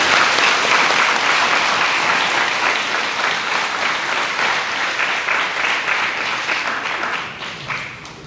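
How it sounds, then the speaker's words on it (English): A school audience at a Black History program gives a long, loud round of applause, a dense steady wash of clapping that fades slightly toward the end. "Can we please give them a round of applause?"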